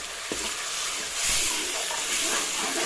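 Crushed tomatoes hit a hot pan of lightly browned onions, giving a steady close sizzle and hiss that swells partway through, with a few soft stirring knocks.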